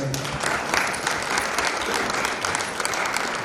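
Audience applause fills a church wedding hall, steady dense clapping from a crowd that carries on throughout without a break.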